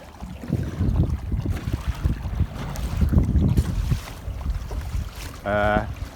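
Breeze on the bay while sailing a kayak, a steady low wind rush across the open water with soft water sounds and the odd knock from the boat.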